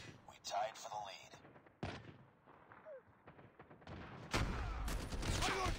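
Gunfire in the mobile shooter Call of Duty: Mobile: sharp scattered shots and short bursts, some near and some farther off, mixed with brief in-game voice callouts.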